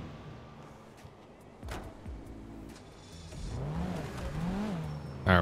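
A race car engine in GTA 5 being driven up into a truck, revving in short bursts that rise and fall with some tire noise, fairly close and with no talk over it.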